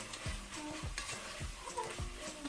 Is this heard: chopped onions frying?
yes